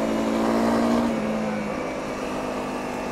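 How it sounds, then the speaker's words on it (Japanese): The single-cylinder engine of a Honda CRF250L motorcycle holds steady at around 6000 to 7000 rpm on the road, a continuous, crisp drone with a slight drop in pitch toward the end, with no talking. "今エンジンの回転数はだいたい6000回転から7000回転の間といったところですけれども、このエンジンの歯切れ良さが収束しないというのがいいですね。"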